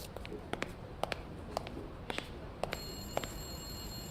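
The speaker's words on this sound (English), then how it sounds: "Ronald, get on that ring!" Old telephone in the Blacksad Under The Skin video game rings in short, fairly faint repeated bursts over quiet game ambience.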